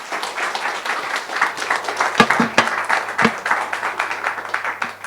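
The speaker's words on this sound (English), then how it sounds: "If we could please give a round of applause to Cosmin Visan" Conference audience applauding a philosophy talk's speaker, a moderate crowd of hands clapping steadily with a few sharper close claps and faint voices mixed in.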